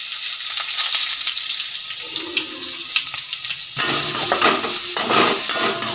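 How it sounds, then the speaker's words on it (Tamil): Chopped onions frying in a pan with oil and cumin for a bitter gourd tamarind curry, a steady close sizzle with soft stirring scrapes that briefly intensifies partway through. "வெங்காயத்தை போட்டு நல்லா நம்ம வறுத்துக்கலாங்க."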